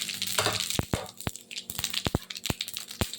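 Cumin seeds crackle in hot oil in a pan already holding fried bay leaves and dried red chillies, giving sharp, irregular pops and snaps over a soft background sizzle, close and fairly loud, with no talking.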